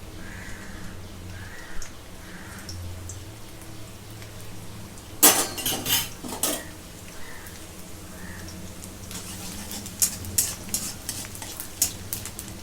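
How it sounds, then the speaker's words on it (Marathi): Finely chopped garlic fries in oil in a kadai, browning: a low steady sizzle runs throughout, broken by loud scraping stir bursts midway and again toward the end, with faint bird caws far off. "लसूण चांगला तांबूस रंगावरती तळून घेऊया"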